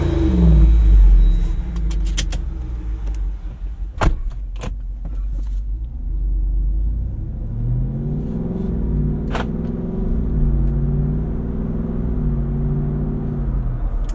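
A 2024 Jeep Wrangler Rubicon 392 Final Edition heard from inside the cabin, a loud thump and handling noises first, then a steady low engine rumble that rises as the vehicle pulls away, with a few sharp clicks.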